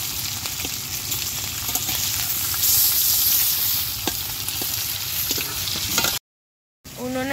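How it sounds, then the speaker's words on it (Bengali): Fresh pomfret fish from the Sundarbans river fry in hot oil in a village kitchen, giving a loud, dense, continuous sizzle with crackling spatters that swells midway before a brief silent gap. "তেল কিন্তু গরম হয়ে গেছে আর মাছ দিয়ে দিচ্ছি।"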